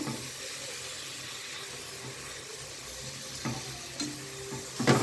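Coriander and mint stirred into a frying chicken biryani masala, a steady soft sizzle with a few scraping stir strokes near the end, close by and moderately loud.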